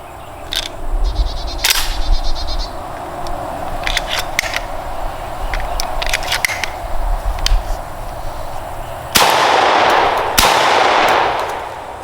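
A Benelli Super Vinci semi-automatic shotgun loaded with Winchester Universal shells fires two loud, close blasts about a second apart. Sharp mechanical clicks and handling noises come before the shots.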